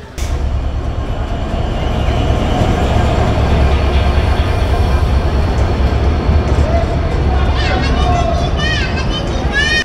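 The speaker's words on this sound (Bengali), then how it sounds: "ট্রেনটা এখন প্লেস করা হচ্ছে, এই ট্রেনটা প্লেস করা হচ্ছে।" At Benapole railway station, a train is being shunted to the platform. The steady, loud rumble of the train runs the whole time, with squealing wheel or brake screeches near the end and voices of people nearby.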